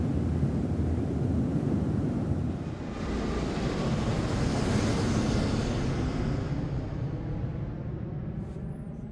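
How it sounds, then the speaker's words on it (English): A propeller airplane drones loudly and steadily as broadband engine noise, easing slightly toward the end as it recedes, with no voices. "the sound of the airplane dies away slightly"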